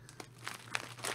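Plastic packet of biscuits crinkling close by, a few short rustling bursts over about a second, fairly quiet with no talk.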